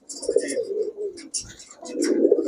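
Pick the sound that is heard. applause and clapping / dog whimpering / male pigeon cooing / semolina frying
male pigeon cooing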